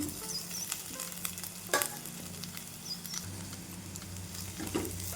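Boiled potatoes fry with spices in a pan, a steady close sizzle with stirring scrapes and a few louder spatula knocks against the pan.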